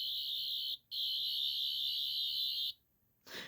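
Sonic screwdriver replica emitting a loud, steady high-pitched electronic whine in two bursts, the first about a second long, then a brief gap and a longer two-second burst, followed by a softer rustle, with no voice.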